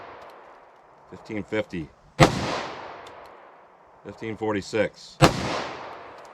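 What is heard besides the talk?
gunshots fired from a .357 Sig pistol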